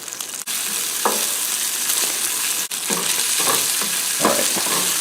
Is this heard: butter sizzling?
yes